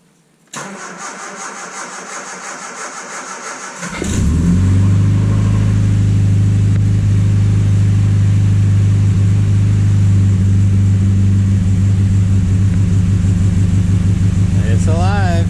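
A Triumph Spitfire with a newly fitted distributor cranks over from cold with a whirring starter for several seconds, catches, then settles into a loud, steady idle with light revving, close by.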